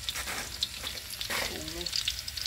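Loud sizzling and crackling of morning glory being stir-fried in a hot pan, with occasional scraping of a utensil against the metal.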